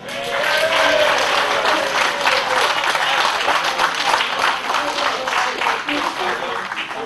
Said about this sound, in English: a round of applause once again for your 211 Lotus Cup Europe class winner